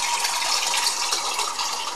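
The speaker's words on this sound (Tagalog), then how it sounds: "Tapos, wagyan ng tubig." Water pours steadily into a cooking pot in a continuous broad splashing rush, close and fairly loud, with no voices.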